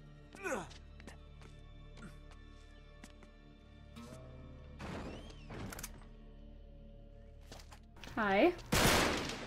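Scattered gunfire in Uncharted 3: Drake's Deception, with a few sharp reports and thuds spread through a mostly quiet stretch and a louder burst near the end, under a voice speaking briefly.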